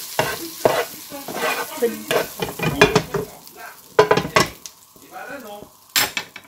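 Garlic sizzles in butter and olive oil in a pan while a utensil stirs it, with irregular clattering scrapes over a soft bubbling fry, close and fairly loud.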